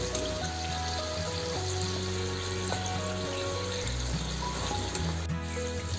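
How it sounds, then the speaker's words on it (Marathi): Besan karanji pastries frying in hot oil, a steady soft sizzle running throughout, heard beneath prominent background music with sustained tones. "दोन्ही साईडने चांगल्या सोनेरी रंग येईपर्यंत परतून त्या तळून घ्यायच्या"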